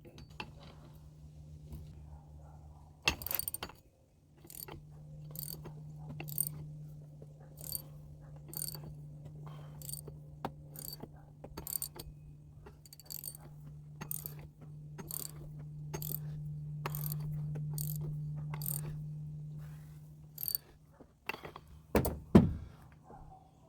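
Ratchet wrench tightening a plastic power steering pulley on a 2002 Pontiac Trans Am, a long run of evenly spaced clicks close by over a low engine-bay hum, ending with a few clunks.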